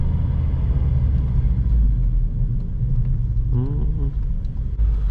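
A Honda Civic Si running without its air filter, a loud deep engine rumble close by, with a brief voice cutting in near the end.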